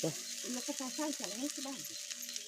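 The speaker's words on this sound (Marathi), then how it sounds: "अशी चालू आहे साबुदाण्याची खिचडी बनवायचं." Sabudana khichdi with green chillies being stir-fried in a pan, a steady close sizzle with scraping stirs throughout, while a faint voice speaks in the background.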